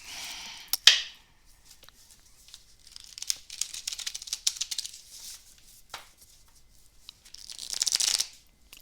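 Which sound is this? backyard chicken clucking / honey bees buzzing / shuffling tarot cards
shuffling tarot cards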